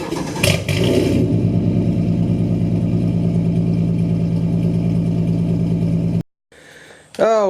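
Exhaust of a Ford Mustang S197 with the 4.0 V6 idling close by, a steady throbbing burble that cuts off abruptly, followed by a short bit of other noise.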